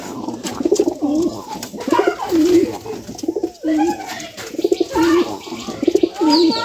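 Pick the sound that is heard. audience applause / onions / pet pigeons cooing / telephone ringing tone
pet pigeons cooing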